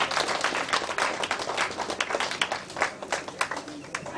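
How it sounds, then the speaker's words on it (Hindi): An audience claps at a school batch reunion prize ceremony, dense, fairly close handclaps in a steady patter that thins slightly toward the end, with faint voices underneath. "ताली बजाइए भाई।"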